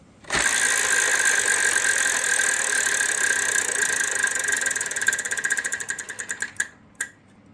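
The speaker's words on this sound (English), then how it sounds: "Rusty Schwimmer, spin the wheel" The big Wheel of Fortune wheel spinning on a 1995 game show taped at Walt Disney World, its ratcheting clicks rattling out under a steady backdrop, then slowing into spaced ticks before stopping.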